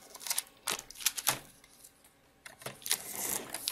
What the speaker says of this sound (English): And let's trim the other side too. Here at this fold.